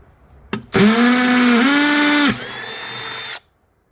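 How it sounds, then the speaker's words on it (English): A power drill bores a hole through a plastic bucket being made into a chicken waterer, a loud close whine that rises in pitch, dips briefly, then drops to a thinner steadier tone before stopping after about three seconds. "And drill a hole right here."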